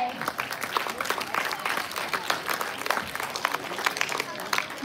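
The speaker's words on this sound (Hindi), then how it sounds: "तो तालियां हो जाए।" Audience applause at a school Hindi comic poetry event, a dense, sustained crowd clapping that fills the whole stretch at moderate loudness.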